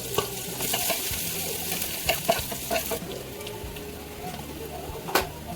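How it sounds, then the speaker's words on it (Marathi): Onion frying in oil with cumin for egg bhurji in a home kitchen, a steady close sizzle with scraping stir strokes and a few sharp clinks of a spatula against the pan. "जसे तळले ना तसं आपण कांदा टाकून देऊ."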